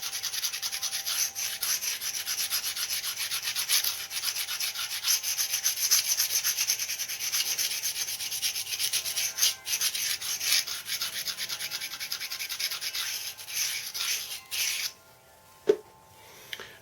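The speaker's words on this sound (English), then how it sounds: "Go ahead and grind your edge." A stone slab's edge is ground down with a steady, close, rasping scrape that runs almost without break, then pauses briefly and ends with a sharp knock and a few lighter scrapes. No one speaks.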